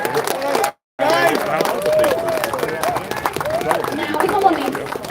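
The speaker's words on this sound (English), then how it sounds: "massive round of applause." Crowd clapping and cheering at an outdoor Braintree protest, a dense steady wash of applause with voices mixed in, broken by a brief total silence near the start before the clapping resumes.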